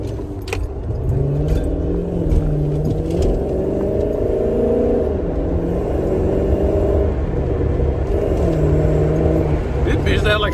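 Rebuilt Dodge Charger engine fitted with a throttle body spacer, revving up and settling back in a few rising and falling swells, close and loud, with keys jangling and a person talking over it.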